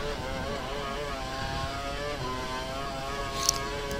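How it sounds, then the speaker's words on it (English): Racing engines from the video game F1 2012 during qualifying at Melbourne, a sustained, harmonic whine that shifts in pitch as the cars rev, with a brief sharp click near the end. "Oh, the engines are not very happy."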